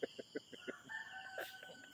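Rooster crowing in the Philippine countryside on a morning bike ride, a short call preceded by a few quick clucking notes, fairly close and clear over quiet surroundings.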